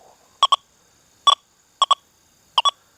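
A Deus 2 metal detector coil swept over a nickel on a 2x4 board gives four bursts of short, high beeping tones, mostly doubled, spaced across the clip over a faint steady hum.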